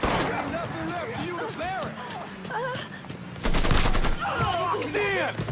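Gunfire in the open-world crime game Mafia 3, a burst of loud shots around the middle cracking over game ambience and voices, with more chatter and a whistling tone after it.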